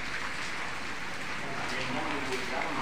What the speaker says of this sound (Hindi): कितनी बुरा हाल हो रहा है बारिश का